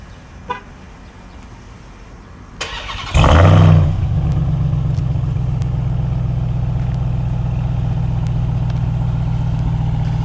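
The 6.2-litre supercharged Hemi V8 of a 2021 Ram 1500 TRX pickup cranks and roars to life with a sharp burst, then settles into a deep, loud, rumbling idle that holds steady.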